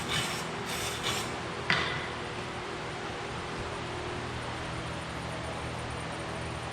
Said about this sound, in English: Go ahead and wire brush this a little bit.